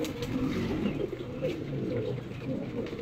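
Pigeons coo in low, rounded, repeated calls close by, with faint background noise behind them.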